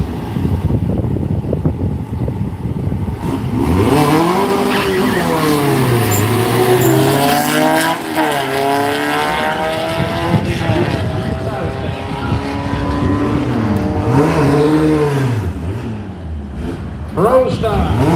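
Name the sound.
Volkswagen race cars at a drag racing event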